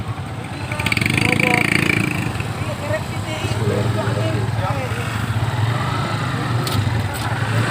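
A motorcycle engine revs hard and drones on a muddy road, rising in pitch and then holding a rough, loud note while someone talks over it.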